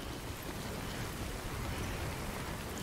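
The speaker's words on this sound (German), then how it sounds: "Ach, schön. Zeitregen." Steady, dense timefall rain from the video game Death Stranding, a continuous close hiss of falling drops with no voices over it.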